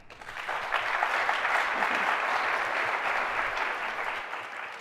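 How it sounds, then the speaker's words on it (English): Audience at a Medford mayoral debate bursting into applause, a dense clapping swell that rises quickly, holds steady for several seconds, then thins out. "it would be great if you could hold your applause till the very end"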